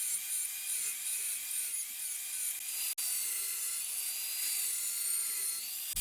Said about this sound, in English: I really only want to cut off that tailpipe extension, which is fitted over the longer tailpipe.